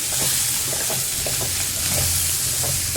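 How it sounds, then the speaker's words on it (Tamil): Onions and grated coconut sauté in a pan for a mutton curry, giving a steady, close sizzle and frying hiss with faint stirring scrapes throughout. "தேங்காயும் போட்டுட்டேன். இது எல்லாத்தையும் நல்லா வதக்கி எடுத்துக்கலாம்."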